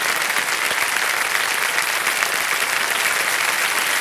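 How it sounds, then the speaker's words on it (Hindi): A studio audience on the quiz show Kaun Banega Crorepati 14 applauds a contestant who has just won 50 lakh rupees. The clapping is dense, steady and loud, with no pauses. "तालियों के साथ इनका हम अभिनंदन करते हैं"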